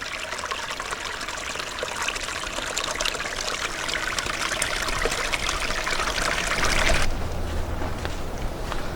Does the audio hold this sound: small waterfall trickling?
yes